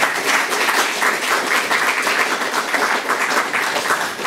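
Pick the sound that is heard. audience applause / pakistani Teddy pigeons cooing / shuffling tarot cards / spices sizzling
audience applause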